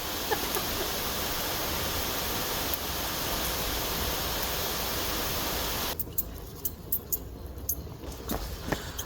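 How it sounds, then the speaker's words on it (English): Water pours steadily from a garden faucet as a loud, continuous rushing hiss, then cuts off abruptly and leaves quiet sparse drips and light taps nearby. "Let's wait for this water to stop flowing so I don't get wet."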